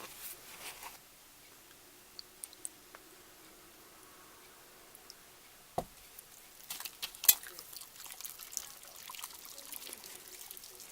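Water pours softly into plaster of Paris powder, a faint trickle and splash with a few light clicks and knocks, close by in a quiet room.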